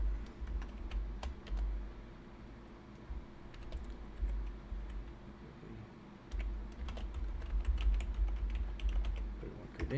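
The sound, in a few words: typing login credentials on a computer keyboard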